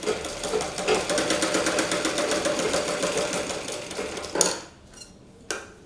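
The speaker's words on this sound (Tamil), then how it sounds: "இப்போ இந்த இதில் வந்து டாப் ஸ்டிச் ஒன்று போட போகிறோம்." Sewing machine top-stitching along the front edge of a blouse, a fast rhythmic mechanical chatter that runs for about four seconds, then stops with a couple of clicks.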